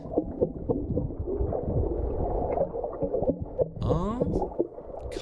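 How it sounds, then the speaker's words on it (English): Gray whale calls heard underwater: a continuous series of low, knocking grunts and gurgling pulses, fairly loud and steady, with a brief burst of higher rasping moans near the end. "A gray whale."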